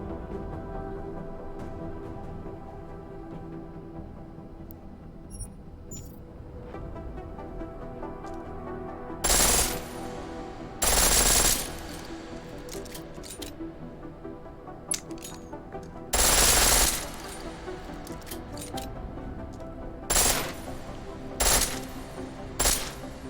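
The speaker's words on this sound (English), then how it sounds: "The pistol in full auto will take down targets fast, but it'll burn through your ammo" A pistol fires in full-auto bursts in Deus Ex: Mankind Divided, with several short, loud rattling volleys spaced apart over quieter game ambience.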